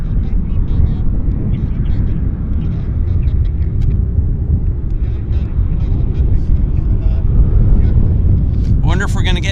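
Airliner approaching runway 08 left at Vancouver International Airport, a steady, loud low rumble with wind buffeting the microphone, and a voice talking near the end.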